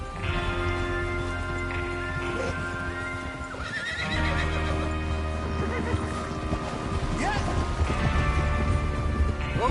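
Horses neigh and whinny repeatedly amid clip-clopping hooves in a Western video game, with game music and spoken dialogue running underneath.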